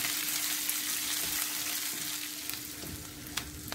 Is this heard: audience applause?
no